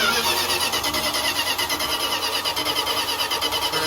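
A 1969 Dodge Dart GT convertible engine cranks with a steady rapid rhythmic churn via a jumper on the solenoid, close and fairly loud, throughout without pause.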